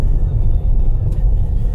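A car driving downhill out of the mountains on a desert road, heard from inside as a constant low rumble of engine and road noise, loud and unbroken.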